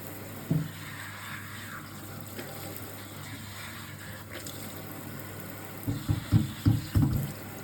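Running water rinses a hair replacement system: a steady hiss of flowing water from a tap, with a brief splash early and a cluster of louder splashing and sloshing near the end as the piece is handled under the stream.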